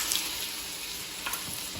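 Food being reheated in a pan, a steady close sizzle and crackle running continuously with a few small pops.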